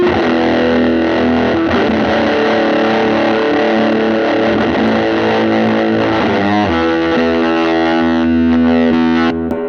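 An electric guitar through a Tube Screamer overdrive pedal plays sustained, thick chords with a warm, saturated distortion, ringing out steadily and loudly with a chord change near the end.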